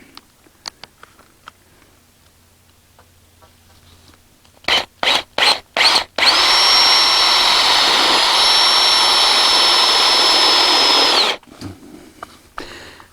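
A power drill driving a self-tapping screw into a greenhouse frame whines loudly for several seconds after a few short bursts, running steady and close before cutting off.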